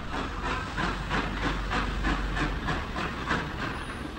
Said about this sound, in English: Leaking piston rods make for a steamy departure as the train continues its journey to Rowfount and Three Bridges.